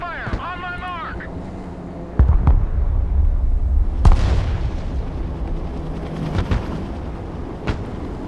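Artillery direct fire in the video game Broken Arrow: a sharp blast followed by rumbling low booms and a second loud crack, with a brief voice at the start and windy background noise.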